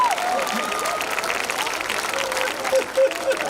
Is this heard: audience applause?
yes